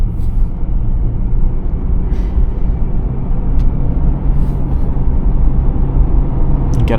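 A 2004 Mercury Grand Marquis LS Ultimate Edition with 358,000 miles, heard from inside as it drives and eases on the gas: a loud, continuous low engine and road rumble that holds steady.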